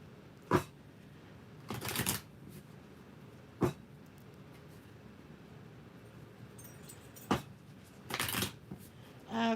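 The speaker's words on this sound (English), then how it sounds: "we're going to throw some cards for the collective" Tarot cards are shuffled in short, crisp bursts, several separate riffles and taps spaced apart across a quiet room, close by with little else heard.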